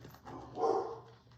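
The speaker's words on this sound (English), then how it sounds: "something got the dog barking" A dog gives a single faint bark, distant and brief, in a quiet room.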